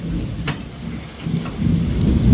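Heavy rain pours down in a thunderstorm with lightning in Bhavnagar as low thunder rumbles and swells toward the end.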